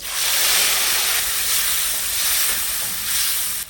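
Squid, about a cup, dropped into pre-heated oil with a pinch of salt while cooking restaurant-style chow mein, giving a steady loud hissing sizzle that holds throughout with no talking.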